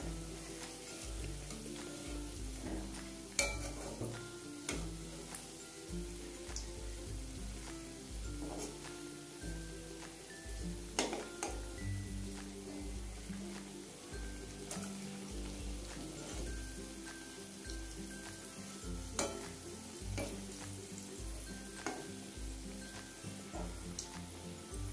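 Langcha sweets frying in hot oil and being turned, giving a steady sizzle with scattered sharp pops and crackles throughout, close and fairly loud.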